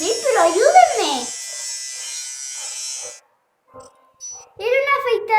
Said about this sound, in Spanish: ¡Era una afeitadora!